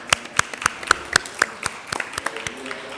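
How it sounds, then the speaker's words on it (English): Scattered audience applause at a youth green-jobs event, a handful of distinct sharp claps in loose rhythm at first, then thinning into lighter, uneven patters, fairly close and with no voices. "A round of applause for that video"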